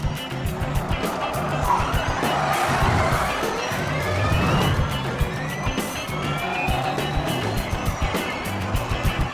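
Electric Formula E race cars launch from the start in Mexico City, a pack of rising whines sweeping past over steady crowd noise, loud and continuous.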